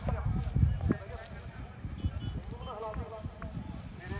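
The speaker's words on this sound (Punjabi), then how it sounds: "ਬਾਈ ਨਿਹਾਲ ਆ ਗਿਆ ਵੀ ਪਹਿਲੇ ਨੰਬਰ ਤੇ ਘੋੜਾ ਲੈ ਕੇ" A horse's hooves clip-clop in an uneven, running rhythm close by, mixed with general outdoor bustle and a voice calling out.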